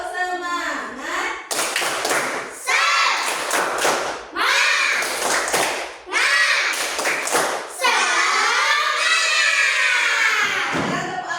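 A school class performs the rhythmic 'tepuk semangat' clapping chant, with loud, close bursts of patterned claps and thumps alternating with children's voices chanting in unison, repeated in several phrases.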